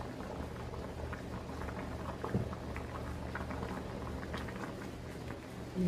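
Kimchi pasta sauce simmering in a pan, a soft, steady bubbling and popping that continues throughout, quiet and close with no talking.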